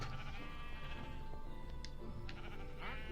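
Sheep bleating in Minecraft: a couple of short, wavering baas rise over a steady hum of game ambience and background tones, with faint clicks from play scattered throughout.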